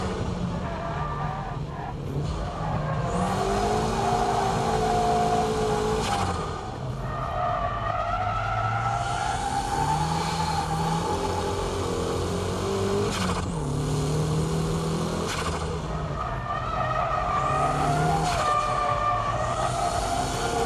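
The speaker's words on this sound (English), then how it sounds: "On the S-curves, the faint drift should be used." A car drifting gently through S-curves, with a steady engine drone and drawn-out tire squeals that swell and fade throughout.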